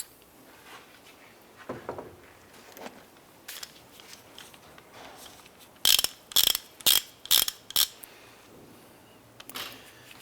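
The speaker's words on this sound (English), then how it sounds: "Using a 21mm socket and ratchet and 21mm impact, I'm going to go ahead and remove this bolt." Socket and ratchet working on a shock absorber bolt of a 2004-2012 Chevrolet Colorado, a few faint clicks early, then a loud close run of sharp ratcheting clicks in quick succession.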